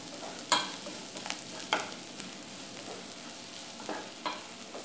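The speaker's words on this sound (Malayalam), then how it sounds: "നല്ലപോലെ ഇത് വഴറ്റി കൊടുക്കുക." Chicken sautéing in a pan for a Kerala-style chicken varattiyath, with a soft steady sizzle and several sharp scrapes and clanks of a spoon stirring against the pan, no talking.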